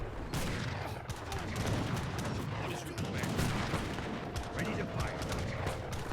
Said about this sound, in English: All right, Gatling guns, do your job